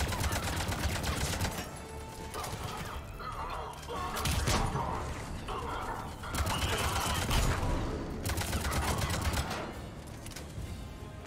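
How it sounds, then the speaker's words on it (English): Rapid bursts of concussive gunfire from Mass Effect 3 combat, loud and dense, with repeated shots and crashing impacts layered over continuous battle noise throughout. "Stop dodging my concussive shots"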